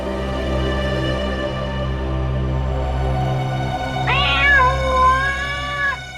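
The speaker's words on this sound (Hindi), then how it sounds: "ये बिल्ली की आवाज कहां से आ रही है?" A cat lets out a drawn-out, wavering meow near the end, over a low steady hum and background tones.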